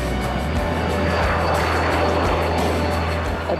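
A Honda Jet business jet runs at a factory site, its engines producing a loud, steady roar with a broad rushing hiss and a low hum that holds unbroken throughout.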